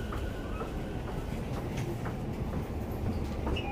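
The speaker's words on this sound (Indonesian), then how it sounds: "Kita udah di stasiun kereta. Ini lagi nunggu kereta." A train at a railway station, heard as a steady, moderately quiet rolling rumble with faint rattling and clicking from the carriages, continuous throughout with no talk.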